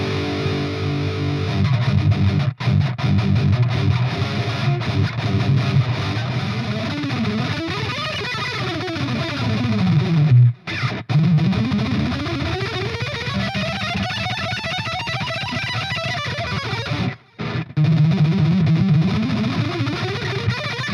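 Heavily distorted electric guitar plays chugging metal riffs through the lead channel of a Grandmeister Deluxe 40 amp. The riffs are loud, palm-muted and rhythmic, with sliding runs and two brief breaks, and no one speaks.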